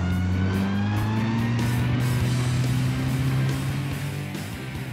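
A manual stick-shift car accelerates hard on a race track, its engine revving loudly and climbing steadily in pitch through the gear, with no voices and a close, continuous roar that eases slightly at the end.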